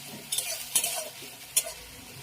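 A paste of green chilli, onion, ginger and garlic fries in a pan, with a low sizzle broken by a few sharp scraping stirs of a spatula against the metal.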